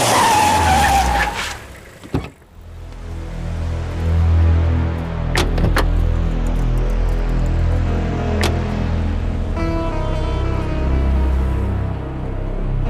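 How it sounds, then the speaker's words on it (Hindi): In an action movie chase, a car skids hard while overtaking another on the road, its tires rasping loudly over a roaring engine, broken by a few sharp bursts and a brief dip in level partway through. "ड्राइवर, गाड़ी को ओवरटेक करो,"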